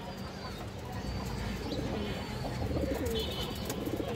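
A Giribaj pigeon coos softly among other pigeons, low repeated coos with a few faint chirps over quiet background noise.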